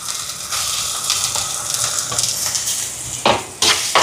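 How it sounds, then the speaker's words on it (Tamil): Onions with ginger-garlic paste sautéing in a pan for a Jaffna-style fried chicken curry: steady close sizzling and frying with stirring, then a couple of sharp utensil scrapes near the end. "வெங்காயம் எல்லாம் வதங்கிட்டு இஞ்சி உள்ளி அரைச்சி வச்சுருக்குன்னு சேர்ப்போம்"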